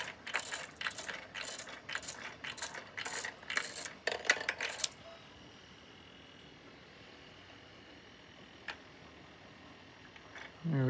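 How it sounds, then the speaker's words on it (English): A PME bullet feeder on a Dillon XL750 reloading press running dry, giving a series of rattling metallic clatters and drops that stop partway, leaving a quiet hum with an isolated click afterward. "And then we are going to run our bullet feeder dry"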